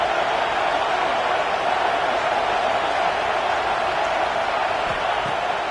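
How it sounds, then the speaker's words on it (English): A home crowd at a Sooners college football game roars in a loud, sustained wall of cheering that holds steady from start to finish, with no break in the noise. "how nice is it to have the home crowd going absolutely bananas?"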